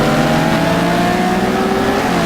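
Race cars at full throttle on the Spa-Francorchamps circuit near La Source in Gran Turismo, a steady, loud, continuous engine drone with layered whining tones and no gaps, with no voices.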